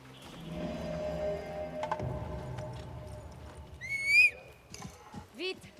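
Horses in the video game Assassin's Creed Mirage: clip-clopping hooves and rustling give way to a loud, close neigh, then softer snorts and whinnies, with someone speaking.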